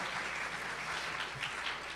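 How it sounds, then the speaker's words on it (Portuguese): An audience at a university accounting lecture applauds to welcome a professor from the University of Coimbra, a soft, steady wash of many hands clapping, heard faint and distant with no talk. "Uma salva de palmas às duas"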